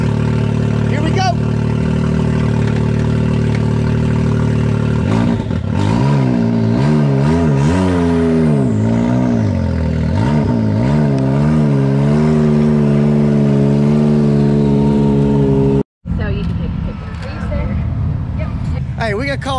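High-horsepower off-road buggy engines revving loud and close at an off-road park hole, rising and falling in repeated surges over a rumbling idle, with someone talking over them.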